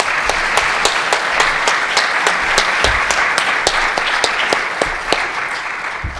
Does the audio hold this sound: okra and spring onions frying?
no